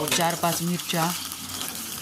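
Green chillies fry in hot oil in a pan at home, giving a steady soft sizzle beneath someone speaking close by.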